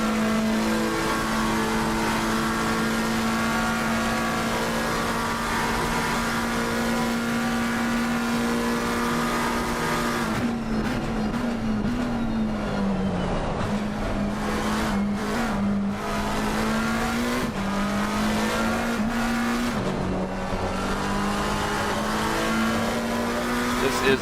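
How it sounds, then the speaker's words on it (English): Onboard engine of a McLaren race car in a racing game during a 24 Hours of Spa endurance event, a loud, sustained high-revving drone that shifts pitch repeatedly through gear changes and lifts, with brief tire noise. "The 88 Tidman Racing McLaren chasing down the Valkyrie"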